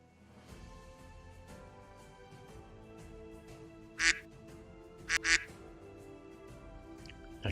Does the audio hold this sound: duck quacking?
yes